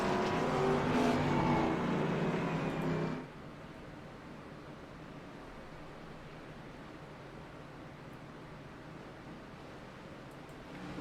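Race cars roll slowly in a pack behind a pace car at Michigan, a steady low engine rumble at a distance, louder for the first few seconds and then a softer, even drone.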